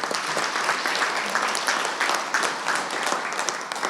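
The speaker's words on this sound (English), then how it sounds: "A quick round of applause for those good folks." Steady, dense applause from an audience at a Hall of Fame dinner, honoring the catering and service staff; even clapping fills the whole moment without voices.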